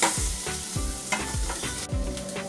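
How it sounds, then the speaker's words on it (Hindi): Vegetables sautéed in a pan for homemade sambhar, with a steady sizzle of frying under repeated scraping stirs of a spoon, close and fairly loud, no talk. "इन सब्जियों को अच्छे से थोड़ा सा इसको भूनेंगे, थोड़ा सॉफ्ट होने देते हैं जरा सा सब्जियों को"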